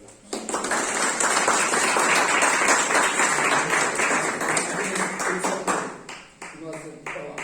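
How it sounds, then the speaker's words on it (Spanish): Sustained audience applause fills a room after a talk on communal discernment at a pastoral gathering, dense clapping steady for about six seconds, then thinning out and fading near the end. "nuevamente te agradecemos con un fuerte aplauso"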